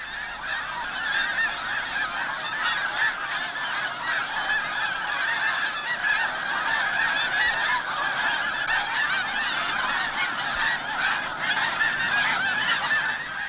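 A large flock of migrating snow geese honking continuously, a dense overlapping chorus of calls from many birds at moderate distance with no pauses.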